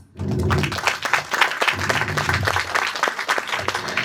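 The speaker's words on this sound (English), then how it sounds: "Let's welcome them with a huge round of applause, please." A crowd at the Fincom Global 2024 conference breaks into a big round of applause, loud and sustained clapping that starts abruptly and carries on without pause, with faint voices beneath.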